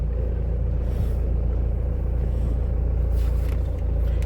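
Mahindra Bolero SUV engine idling low as the vehicle creeps slowly over a steep ramp off-road; a steady, close, deep rumble continues without pause and no one speaks.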